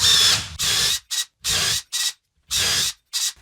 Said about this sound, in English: Hole saws are tricky because you have to keep pulling them out and clearing the debris out of them